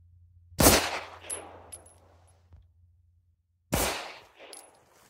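Two sharp, loud Beretta M9 pistol shots fired at an outdoor target a few seconds apart, each followed by a decaying echo and faint metallic rattles between them.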